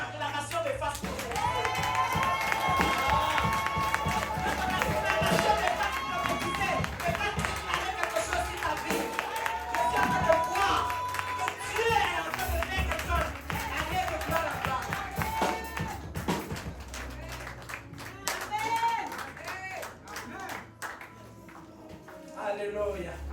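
A church congregation at a prophetic evening service acclaims and claps, with steady, loud crowd noise, raised voices and music-like tones filling the whole stretch before it eases slightly near the end.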